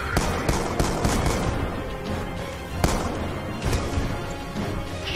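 Gunfire and explosive blasts in the video game Call of Duty Black Ops II, a dense, continuous barrage of sharp cracks with heavier booms throughout, loud and close.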